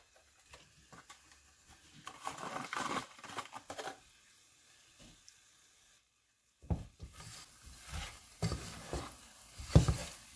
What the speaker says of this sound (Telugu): బాగా కలుపుకొని కాసేపు ఉడికించుకోవాలి.